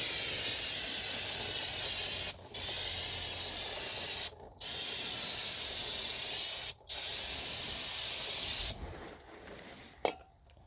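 Aerosol brake cleaner hisses in long, loud bursts while washing down the rear brake parts of a 2019 Honda Civic 2.0 with electronic calipers, with three brief pauses and a trailing sputter as the can empties.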